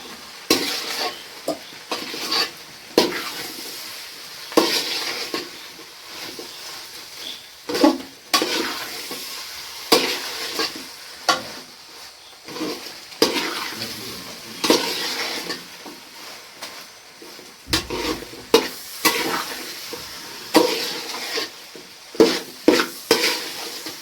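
Tapioca (kappa) is tossed into a pan and stirred with scraping, clattering strokes over a faint sizzle, recurring in irregular bursts close to the mic, with no talking.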